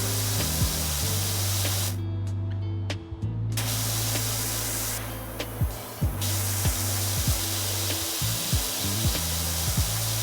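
A pressure washer sprays steadily in the video game PowerWash Simulator, a continuous hiss with brief gaps and cutouts as the spray starts and stops, alongside low steady game tones and no talk.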